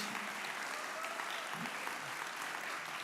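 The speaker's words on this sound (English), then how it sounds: "A round of applause for Anastasia, who is beyond the stage." Audience applause at the International Physicists' Tournament 2023 awards ceremony, a steady dense clapping from a crowd filling the hall, with faint voices underneath.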